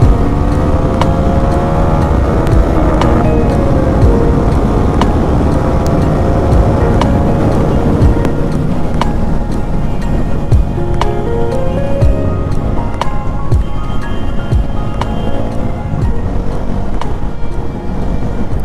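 Bajaj Pulsar NS400Z motorcycle engine revving and pulling hard under acceleration, a loud continuous engine drone with rising and shifting pitch, heard close up with wind rush and no talking.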